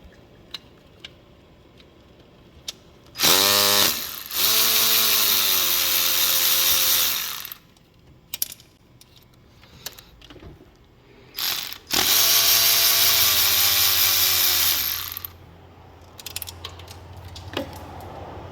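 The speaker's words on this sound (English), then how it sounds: "Let's go ahead and take that bolt out." An air or power ratchet zips out fuel rail bolts on a 1997 Jeep Grand Cherokee 4.0, in two loud whirring bursts of a few seconds each with a quiet pause between them.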